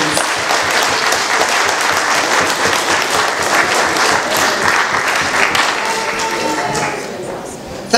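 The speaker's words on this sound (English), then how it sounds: "Can we give you a warm round of applause," A warm round of applause rises from the audience at a Nigerian independence celebration in Manchester, dense and loud throughout before easing slightly near the end.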